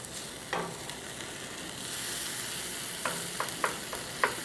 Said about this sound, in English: I'm trying to go ahead and mix the cream cheese in and get it melted